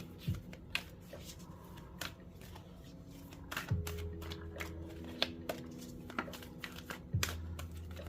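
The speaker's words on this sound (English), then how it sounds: "They don't shuffle as smoothly because they're high gloss, so they tend to stick a little bit when you overhand shuffle." Large high-gloss tarot cards are overhand shuffled, producing a run of soft, irregular flicking and slapping clicks at close range with slight sticking.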